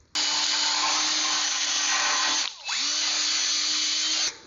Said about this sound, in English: Now I've got it on drill setting.